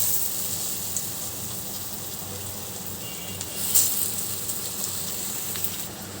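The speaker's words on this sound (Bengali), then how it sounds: "চপগুলো আমার ভাজা হয়ে গিয়েছে," Potato or vegetable chops frying in hot oil for a home lunch, a steady soft sizzle running throughout with a brief louder crackle near the middle and no talking.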